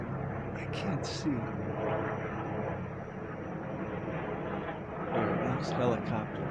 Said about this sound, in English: There it is, helicopter.